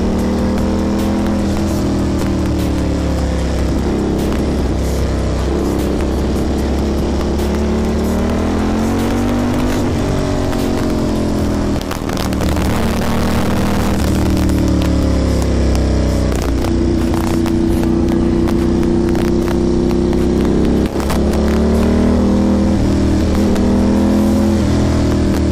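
A superbike engine drones loudly through a ride, its pitch climbing and dropping as the throttle opens and eases, close and continuous with wind rumble and no talk.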